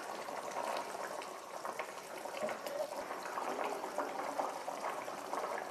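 Potatoes simmering in a pot of coconut curry, a steady low bubbling and gentle popping that continues without pause, fairly quiet and close.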